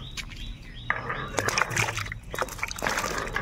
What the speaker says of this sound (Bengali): সবজিগুলো কেটে নিয়েছি, এবার সুন্দরভাবে ধুয়ে নেব।